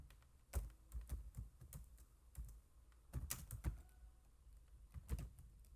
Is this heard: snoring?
no